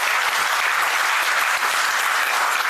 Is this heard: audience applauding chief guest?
yes